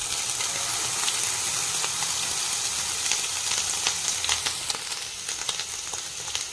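Ginger and garlic fry in a pan with steady, bright sizzling and crackling pops throughout, close and fairly loud, with no voices.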